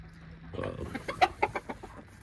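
Chickens clucking nearby in a short burst of rhythmic calls, fairly quiet, with faint background noise.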